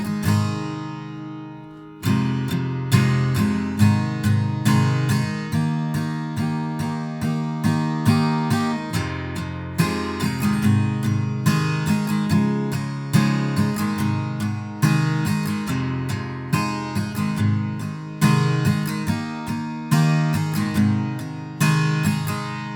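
Strummed acoustic guitar chords in a steady rhythm, the final chorus of a song, with bright repeated strokes and ringing chords continuing throughout, no voice.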